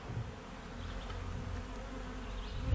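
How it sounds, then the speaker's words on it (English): Continuous low buzzing drone of a swarm of honey bees, steady and close, with no voices. "there was a lot of bees kind of doing a march up the wall up here"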